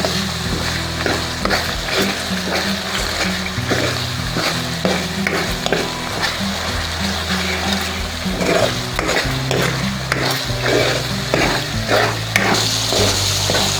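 Masala frying in ghee in a pot for masaledar maash ki daal, a steady, continuous sizzle with repeated scraping strokes of a spoon stirring the pan, close and alone without any voices.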